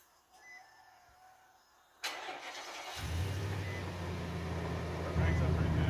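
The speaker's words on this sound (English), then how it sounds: "So let's crank this Nissan up." A 2008 Nissan Titan truck engine cranks briefly and then catches, settling into a steady, loud idle that grows slightly louder toward the end, heard close up.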